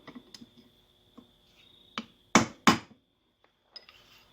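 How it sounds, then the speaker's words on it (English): A drift is hammered against a tapered dowel pin in the block of a salt-water-damaged 1956 Johnson 15 HP outboard: light metallic taps lead up to two loud, closely spaced strikes, followed by a few faint knocks. "So I just take a drift and I knock it out."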